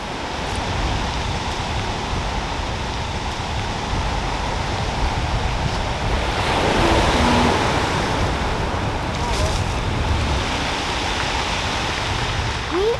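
Steady, broadband surf of ocean waves rolling onto a Pacific Northwest beach on the Olympic Peninsula, continuous and fairly loud with a slight swell midway, mixed with wind noise and no talking.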